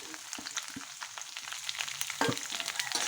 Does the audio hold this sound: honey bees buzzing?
no